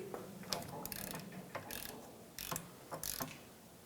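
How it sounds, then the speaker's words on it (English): An 8mm hex bit on a ratchet breaks driveshaft bolts loose on a 2003-2007 Infiniti G35, a run of faint clicking ratchet strokes in short bursts, no voices. "using an 8mm hex head, break the bolts free"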